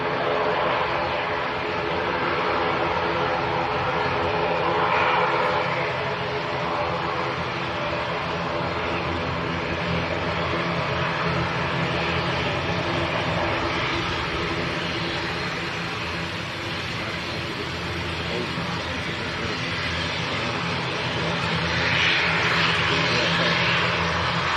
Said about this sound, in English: We've got this Aer Lingus coming straight towards us.